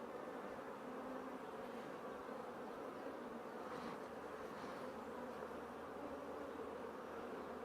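Steady, close insect buzzing from a honeybee hive frame where a young honeybee is emerging from its brood cell, a continuous drone with no talk over it.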